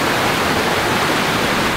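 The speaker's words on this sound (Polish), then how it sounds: "tu jest wodospad taki." Steady broadband rush of a small mountain waterfall fed by clear water, loud and close, continuous hiss with no breaks and no voices.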